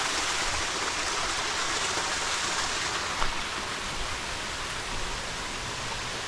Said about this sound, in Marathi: बघू शकता पाण्याचा असा सुलसुलाट आवाज